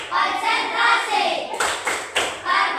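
Young students chant together and then break into three firm, evenly spaced group claps, the tepuk konsentrasi rhythm game played loudly in a classroom.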